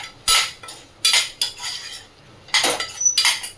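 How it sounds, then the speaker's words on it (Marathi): A utensil stirs turmeric in a metal cooking pot, with several close scraping clinks in irregular strokes and short pauses between them. "थोडी हळद, ढवळून घेते."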